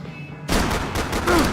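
Gunfire in Max Payne 3 on hard difficulty: after a half-second lull, a loud, dense burst of rapid shots erupts and keeps rattling close up to the end.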